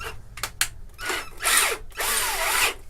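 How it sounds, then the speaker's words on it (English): A power drill with a peg winder bit, restringing a Yamaha FG-512II 12-string guitar, gives a few quick stuttering bursts, then two longer high whirring runs up close. "I've got a peg turner there that goes into my drill"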